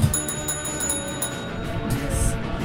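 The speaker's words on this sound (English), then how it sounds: "You have to tag team the bell. Ring the bell." A small bell rings rapidly in repeated metallic dings over a busy background, with a brief cluster near the end.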